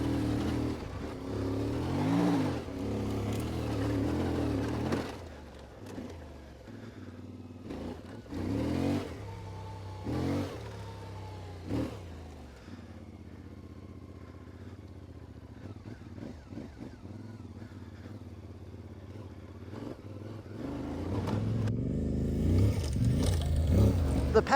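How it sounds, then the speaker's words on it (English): An Ibex 450 adventure motorcycle rides a loop, its engine rising and falling through repeated revs and gear changes, loud and close with wind rush, easing off midway before building again near the end. "Here we go, same ride, same loop with the Ibex 450."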